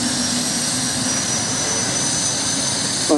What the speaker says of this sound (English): the Buccaneer is actually being started by the old Buccaneer trailer unit